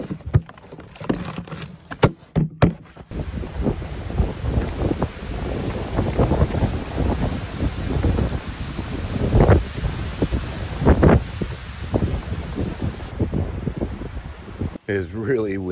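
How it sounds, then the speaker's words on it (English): Strong wind gusts buffet the microphone at a lakeside campsite on a windbound canoe trip in Maine, a continuous roaring rumble with rising bursts and brief clatters near the start. "It is really windy out."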